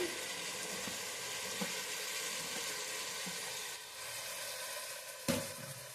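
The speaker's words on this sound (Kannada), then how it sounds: "ಇದು ಒಂದು 3 ನಿಮಿಷ ತರಕಾರಿ ಇದು ಆಯಿಲಲ್ಲೇ ಫ್ರೈ ಆಗಬೇಕು." Mixed vegetables, cauliflower among them, fry in oil for an avarekalu pulao. The steady close sizzle runs throughout, with a few soft stirring knocks and one sharper clack near the end, and no talking.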